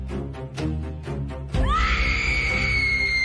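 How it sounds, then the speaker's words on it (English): An unhinged scream rings out and echoes, rising into a long sustained shrill cry after some rhythmic thuds, loud and reverberant with no speech. "Upstairs, I could still hear unhinged scream echoing."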